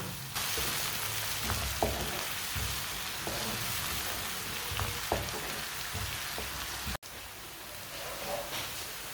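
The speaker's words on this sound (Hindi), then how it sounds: "दोनों चीज़ों को ब्राउन कर लेंगे। फुल ब्राउन नहीं करना, जलने नहीं देना।" Green garlic browning in a frying pan for aloo matar gajar sabzi, a steady moderate sizzle with occasional soft ticks of stirring, briefly cut off near the end before resuming; no voices.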